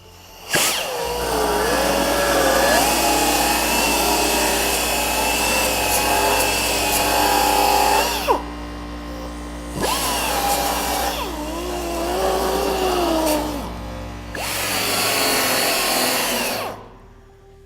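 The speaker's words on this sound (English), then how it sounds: "we're gonna switch abrasives on this file belt tool" A file belt power tool grinds a spot weld on a car body. A loud, close, high whining grind runs in three long passes with short pauses between them, with the pitch wavering under load, and it ends abruptly.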